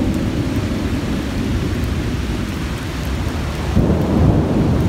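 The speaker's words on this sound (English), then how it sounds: "Yep, here comes the rain." A thunderstorm in a state park: dense, steady rain hisses across the whole span, with a low rolling thunder rumble underneath that swells near the end.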